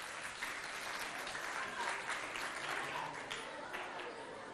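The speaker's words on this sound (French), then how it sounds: "On les applaudit bien fort." Schoolchildren applaud their classmates at a school competition, a continuous wash of many small hands clapping at steady loudness, with a few faint voices mixed into the crowd.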